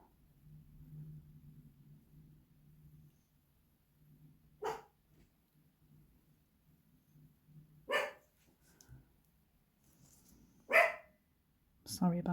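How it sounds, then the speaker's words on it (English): A dog perched on indoor stairs by a window barks at people and cars passing outside, several sharp separate barks spaced a few seconds apart, with a low hum and a faint voice between them. "sits on the stairs and looks out the window and barks at every car or person that walks past the door."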